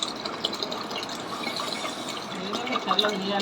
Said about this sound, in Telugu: వాటర్ అయితే యాడ్ చేసేస్తున్నాం ఫ్రెండ్స్